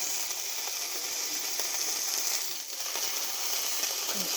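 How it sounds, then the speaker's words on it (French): Meat browning in a pan hisses with a steady bright sizzle close by, holding at the same level throughout with a brief dip midway and faint crackles. "Je vais mettre un petit peu sur le côté histoire de dorer la viande."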